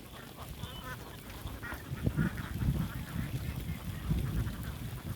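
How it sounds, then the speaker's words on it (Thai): A flock of laying ducks quacking and honking together in a noisy, continuous chorus around their pen, fairly close, with rustling movement throughout. "เป็ด"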